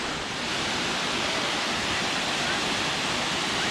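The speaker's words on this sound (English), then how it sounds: "See there, the water coming down in the distance." Water tumbles down the high drop of Corrieshalloch Gorge in the Scottish Highlands, a steady broadband roar heard from a distance that fills the whole stretch without pause.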